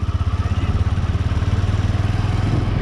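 A motorcycle engine runs steadily after a shift into third gear, giving a loud, close, low pulsing drone with a fast even beat and no talk over it.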